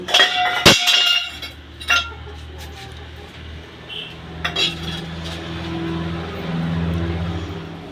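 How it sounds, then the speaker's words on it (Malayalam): A spoon stirs wheat and jackfruit payasam with coconut milk in a pot. Sharp metallic clinks come at first, then quieter, steady stirring settles over a low continuous hum. "ഞാനിതിങ്ങനെ ഇളക്കിക്കൊണ്ടിരിക്കുകയാണ്"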